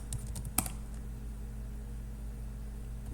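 Computer keyboard typing of git commands: a short cluster of quick key clicks at the start, with one sharper tap, then near silence over a steady low hum.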